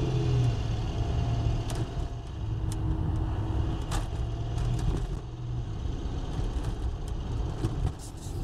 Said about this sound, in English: to me it sounds like a belt that's slipping, skipping